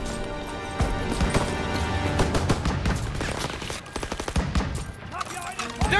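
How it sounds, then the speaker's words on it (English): Suppressive gunfire rattles through a World War II battle in the video game Call of Duty WW2, with dense bursts of machine-gun and rifle shots stacking into a loud, continuous fusillade, sharper volleys clustering toward the end. "Come on, they need cover fire! Suppressive fire! Keep firing!"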